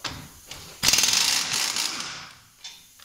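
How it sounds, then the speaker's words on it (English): A ratchet wrench with a 21 mm socket works loose the front brake caliper holder on a Dodge Ram, giving quick close clicking bursts with short pauses and no voices. "Next up, we're gonna go for the caliper holder. We're gonna get that with a 21 mil socket."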